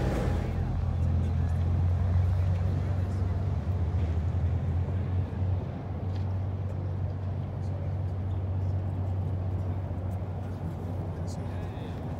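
Steady low engine drone and rushing wind fill a ferry crossing from Hoboken, a constant rumbling hum that barely changes throughout.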